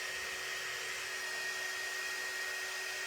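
A handheld hair dryer blows on wet paint on a painted sign, giving a steady, close, continuous whir and rush of air with no pauses and no talking.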